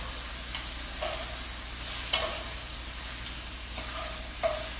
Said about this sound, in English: Let me give the shrimp a stir.